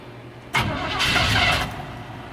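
A 1986 Chevy C10 engine cranks on extra choke, bursting abruptly into a loud rough roar for about a second before sagging back down as it fails to keep running.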